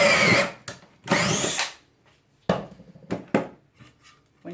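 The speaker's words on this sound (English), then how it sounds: "Go ahead and do your next hole." A close power drill bores the final pocket holes in a wood board clamped in a Kreg jig. Two longer, loud whirring bursts give way to shorter sharp spurts and light knocks between quiet gaps.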